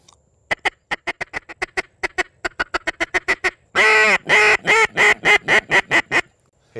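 Duck call blown to imitate a mallard hen, a loud close series of sharp quacks that speeds up, then a run of longer, drawn-out raspy quacks.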